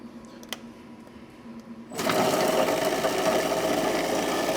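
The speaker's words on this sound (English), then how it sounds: "So then we're just going to puree the shrimp." An Electrolux industrial food processor purees shrimp, starting abruptly after a quiet moment with a loud, close, steady whirring motor drone and rattle that holds to the end.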